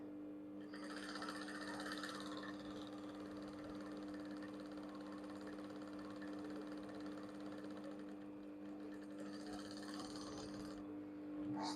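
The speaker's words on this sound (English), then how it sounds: "So I'm just stitching it." A sewing machine stitching a square-neckline blouse bustier runs with a steady, faint mechanical hum throughout, its stitching whir louder near the start and end, with no voices over it.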